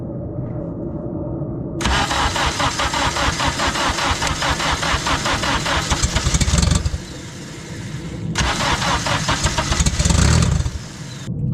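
A turbocharged Honda K24 engine cranks and fires up, running with a loud raspy idle, cutting out briefly, then starting again and revving before dropping off; no talking.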